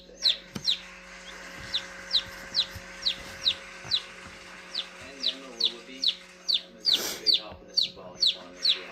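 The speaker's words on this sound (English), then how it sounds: "this is our little bantam chick" A newly hatched bantam chick peeps in a steady run of short, high chirps, close and fairly loud, with a faint low hum underneath and brief quiet moments between calls.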